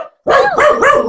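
A dog named MacDuff lets out a quick burst of sharp, close barks, two or three in rapid succession.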